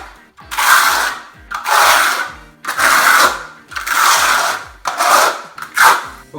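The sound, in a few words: spreading tile glue on the floor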